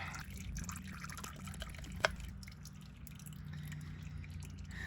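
Transmission oil drains from a BMW M3/M4 S55 DCT gearbox into a catch container, a soft steady trickle of liquid with faint drips and one sharp tick midway, close and continuous with no talking.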